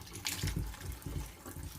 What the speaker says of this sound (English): It's good to put it under running water because it removes any starchy bits